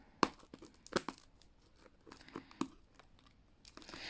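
Plastic shrink-wrap on a trading card display box is torn open by hand without scissors, a few sharp close rips and crinkles spaced irregularly, with quieter rustling between them.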